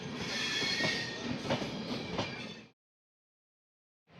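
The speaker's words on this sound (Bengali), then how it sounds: "রাজেন্দ্রনগর নিউ দিল্লি তেজস রাজধানী আসছে।" The Tejas Rajdhani train pulls into a station, a loud, close rumble of wheels and carriages with rhythmic clacks that stops abruptly partway through, leaving silence.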